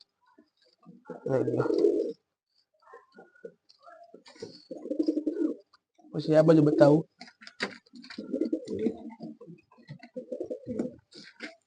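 Pigeons coo in soft, low, throaty bursts, several spaced calls rising and falling, while a person talks briefly nearby.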